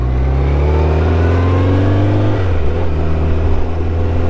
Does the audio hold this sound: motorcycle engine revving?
yes